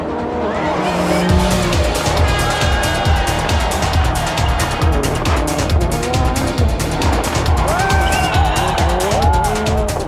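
Toyota rally cars at speed on a tarmac stage of the 1999 World Rally Championship, loud engines revving and shifting with screeching tyres and skids, close and continuous throughout.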